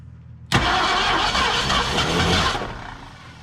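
Ford Mustang Mach 1 engine with a carburetor starting after sitting for 34 years: it fires abruptly and runs loud and rough for about two seconds, then cuts back to a quieter murmur, close by, with no talking.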